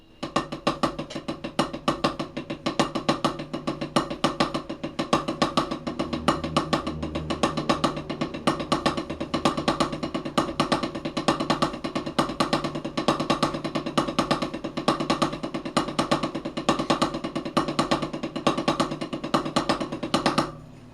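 A drum kit plays a fast, steady paradiddle rudiment with accents falling on the upbeats, the dense stream of strokes running evenly and loudly for about twenty seconds.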